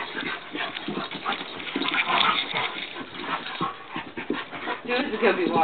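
A tired puppy panting and whimpering after play, close and steady breaths mixed with someone talking over it, with some watery background noise.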